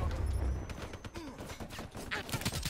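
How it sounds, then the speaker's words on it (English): Gunfire in the video game Call of Duty Black Ops 3, a dense, steady rattle of rapid shots over a rumbling game soundscape, with a low announcer-like voice faintly underneath. "I'm shooting, I don't even know what I'm shooting at."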